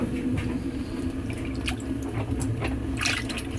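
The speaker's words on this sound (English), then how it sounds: "it will fill with warm water all the way" Warm water pours steadily into a washing machine drum on a delicate cycle, a continuous close rush of filling water with a low hum beneath and a few faint clicks.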